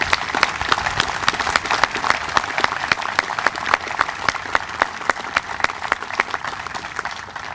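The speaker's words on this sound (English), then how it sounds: "I think they deserve a big round of applause." A big round of audience applause for Gold Star mothers at a Memorial Day commemoration, many hands clapping with distinct crisp claps audible, steady and fairly close.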